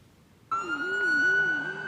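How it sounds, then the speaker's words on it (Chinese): A police siren starts abruptly and wails loudly in a steady rising-and-falling pattern, with an emergency vehicle responding to a school shooting in Georgia. "警车、消防车、救护车接到报案了，随赶到乔治亚州的阿巴拉契中学"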